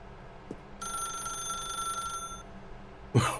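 A telephone rings in a video game: one long electronic bell burst with a shimmering high ring, then a short thump near the end. It is close and fairly quiet, with no talking.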